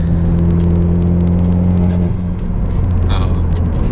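A catless Dodge Dart 1.4T turbo runs loud and close, with a steady droning engine hum and a raspy exhaust buzz throughout, and a brief dip and change in tone partway through.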